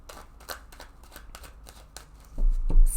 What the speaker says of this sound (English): I'm just going to go ahead and shuffle this deck several times